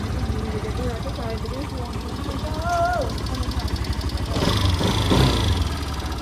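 A cold motorcycle engine runs unevenly after stalling in the cold, with a steady low throb that rises louder near the end while people talk nearby.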